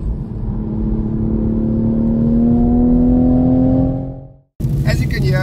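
A Toyota Supra's engine pulls steadily while driving, its droning tone rising gradually and staying loud and close before cutting off abruptly. Brief noise follows after a short gap.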